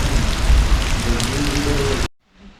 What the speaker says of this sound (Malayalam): നല്ല മഴ പിടിച്ചു, മഴ പെയ്യുന്നു.